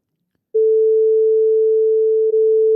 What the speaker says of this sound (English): These are the 6 operators sounding at the same time and at the same frequency.